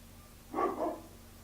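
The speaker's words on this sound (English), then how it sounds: "my dog's barking" A dog indoors gives one short muffled bark, quiet and somewhat distant, in an otherwise calm room.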